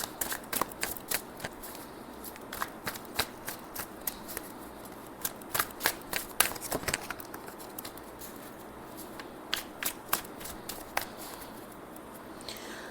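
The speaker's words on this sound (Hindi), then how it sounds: "Let me shuffle a few cards for you" Tarot cards are shuffled close by in a quiet room. The crisp, papery riffles and taps come in irregular quick bursts for about thirteen seconds, with no talking.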